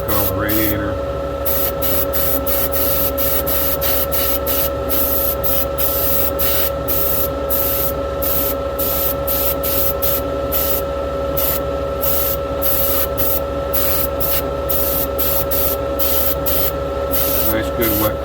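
Spray gun hissing as race car parts, a radiator, shroud and drive shafts, get coated with paint, a steady continuous spray with short on-off bursts running throughout.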